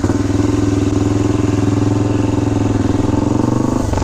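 A 1970 BSA Victor Special B44VS 441 single-cylinder motorcycle fitted with a racing pipe and a new carburetor runs close by with a loud, steady, throbbing idle, its pulses coming evenly throughout.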